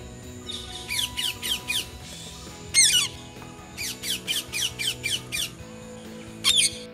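Parakeets squawk in rapid bursts of shrill, rising calls, repeated in clusters with brief pauses, at a rooftop feeding spot in Warangal, with a low steady background hum beneath.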